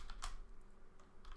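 Quick keystrokes clatter on a computer keyboard in a brief, quiet burst of a few taps with pauses between them, close up and without any voices.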